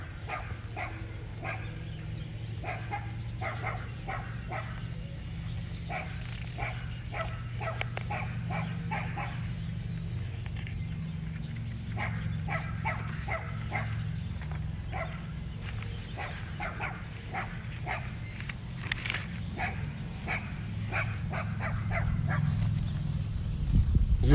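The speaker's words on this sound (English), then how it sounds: "Yes, Sylvia, that dog does want to play with the tortoises." A dog near some tortoises makes a run of short, repeated barks and yips over a low background hum, the barks moderately loud and coming in irregular bursts throughout.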